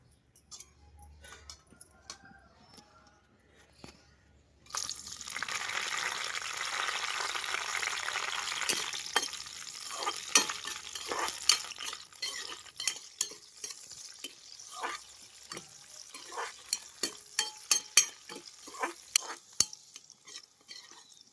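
Green chillies and ivy gourd pieces frying in a pan for chutney: quiet at first, then a sudden loud sizzle that carries on, with repeated scraping stirs and clinks of the spatula, up close.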